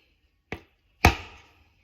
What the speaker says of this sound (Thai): มีด แทงเต็มกำลังนะครับ